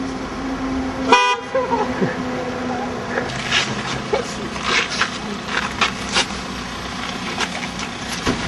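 On a street near a pedestrian crossing, a car horn sounds once loudly and close, followed by the rumble and swish of passing traffic, with voices talking over it.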